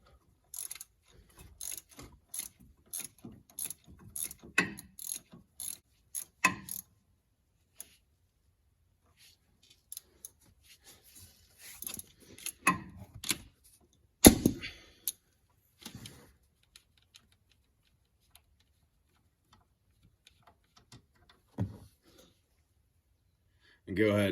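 A ratchet with a 13 mm shallow socket loosens a steering shaft bolt on a 1992–1997 Ford truck. Short bursts of quick, quiet clicks come and go between stretches of someone talking nearby.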